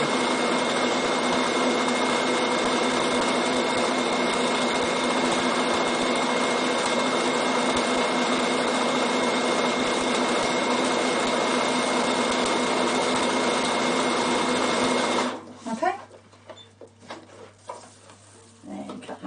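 Steady, continuous mechanical whir of a Bernina sewing machine stitching running zigzags across fabric, running loud and unbroken for about fifteen seconds before stopping abruptly, followed by quiet handling sounds.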